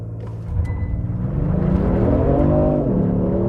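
A Genesis G70 3.3T Ultimate Sport launches hard from standstill using launch control, its engine note climbing steadily and loudly as it accelerates under full throttle, rising in pitch over several seconds with no talking.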